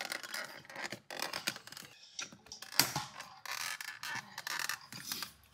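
A pinned connector is pressed hard into its socket several times, giving scraping, creaking rubs and a sharp click, fairly faint and close up.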